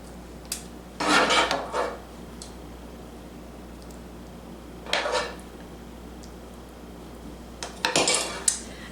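Cheese stirred into a stuffed pepper filling in a pan, three separate bursts of scraping and rubbing from a utensil against the pan with quiet gaps between, moderately close and no talking.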